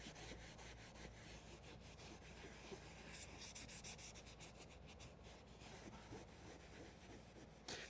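Faint, steady rubbing and scrubbing of a scrubber brush working over a heavily soiled leather car seat, continuous back-and-forth friction with no voices.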